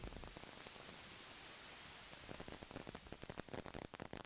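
Steady white-noise hiss from a lo-fi effects pedal, continuous and even, with clicks and crackle creeping in over the last couple of seconds.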